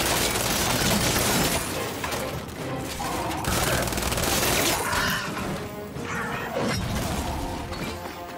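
Gunfire in the shooter Gears 5, dense bursts of rapid automatic fire with sharp impacts and crashing debris, loud and close, pausing briefly between volleys.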